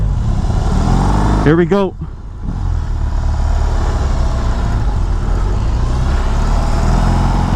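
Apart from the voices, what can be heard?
BMW R18 motorcycle riding off on test ride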